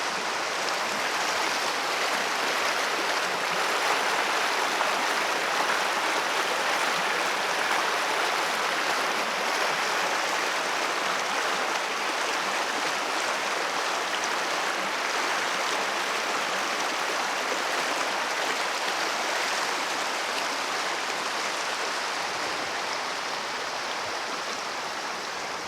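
A small, bubbly forest stream babbles and trickles steadily over rocks, a close, continuous broadband wash of water with no let-up and no voices.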